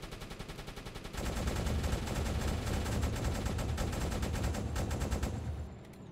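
Sustained rapid gunfire from an attacking ship in the submarine game UBOAT, a dense, steady rattle of shots that thickens after a lighter opening stretch and then cuts off near the end, with no talking.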